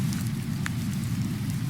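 Steady rain ambience from a reading app's focus sounds, a dense continuous low wash with faint scattered drop ticks, alone and with no talk.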